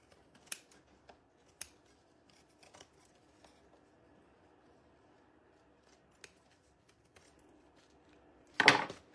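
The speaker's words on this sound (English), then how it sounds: "then we're gonna cut the excess off" Excess material is trimmed off a handmade Easter wall hanging after hot gluing. Faint, sparse snips and clicks are followed by a louder, brief rustle at the end.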